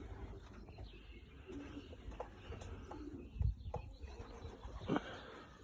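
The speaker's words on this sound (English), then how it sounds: "It has a tiny aviary as well." Small birds in a tiny aviary give soft coos and a few chirps, faint and somewhat distant over a low background hum, with a couple of louder calls near the end.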